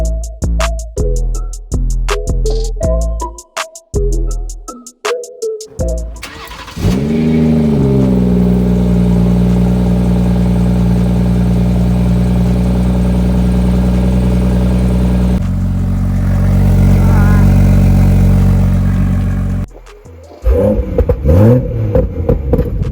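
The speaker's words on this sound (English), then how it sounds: "One of the reasons I liked this car so much is it does have a dine-in free flow exhaust" A 2018 BMW 440i Gran Coupe with a free-flow exhaust, blipped in a few sharp revs, then held in a long, loud, sustained rev, a brief drop, and a final series of quick throttle stabs, close and with no talking.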